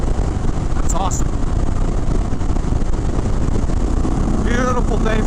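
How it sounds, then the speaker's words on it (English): A 2023 Indian Chief Sport with a large V-twin engine rumbles steadily while riding on an open bike without a big windshield, wind noise loud and constant throughout, with a few faint voice-like tones. "Man, this bike rips. It's got torque right off the line, like you'd expect from a huge V-twin."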